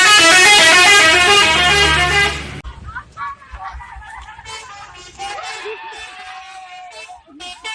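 A loud, close telolet bus horn plays a bright, tuneful run of repeated notes, then stops, leaving street noise with voices and faint traffic.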